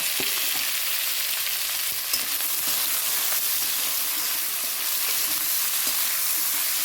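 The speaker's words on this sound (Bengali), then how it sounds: "এবার পেঁয়াজটা দিয়ে দেবো এই তেলের মধ্যেই দিয়ে দিলাম" Onions sizzle steadily in a shallow layer of hot oil in a home kitchen after potatoes were fried, a dense continuous hiss with occasional faint pops and spatula scrapes, close and loud with no talking.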